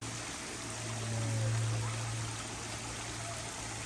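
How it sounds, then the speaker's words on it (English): Steady rushing water of a park waterfall near Atlanta, Georgia fills the clip, a continuous broadband wash heard from nearby, swelling slightly in the middle. "Can you believe there's a park with a waterfall so close to the city of Atlanta?"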